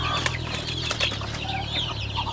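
A mother hen clucks several times in short, soft bursts over a low steady background hum.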